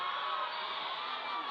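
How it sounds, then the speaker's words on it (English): A crowd cheering and whooping at a Borneo Sevens 2023 women's rugby gold final, a dense sustained roar heard at a distance without pauses. "And you can hear the crowd. They're loving what they're seeing."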